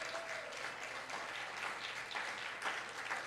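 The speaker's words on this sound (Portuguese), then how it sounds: "Aplauda ao Senhor." Congregation applauding in a church service, a sustained wash of many hands clapping with occasional sharper bursts, heard at a distance and fairly quiet, with no talking over it.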